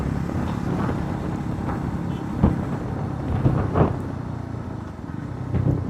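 A 350cc cruiser motorcycle rides along in fourth gear at about 30 to 40, its engine a low steady rumble with wind noise and a few louder surges.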